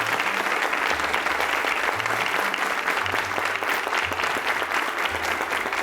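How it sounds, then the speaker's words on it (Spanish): A studio audience on a Spanish-language television stage show claps steadily and loudly, a dense, sustained wash of applause with no break across the whole stretch. "Y con ese aplauso vamos a recibir a Lorena Maza."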